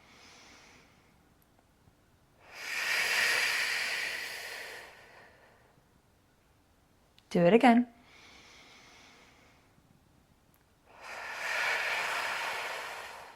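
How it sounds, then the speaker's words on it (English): Slow, deep diaphragmatic breaths during a Pilates abs workout: a long hissing inhale, a sharp snort-like burst, then another long exhale-inhale, close and breathy, with a brief spoken instruction in between. "Fill that diaphragm with air. Fill those lungs with air."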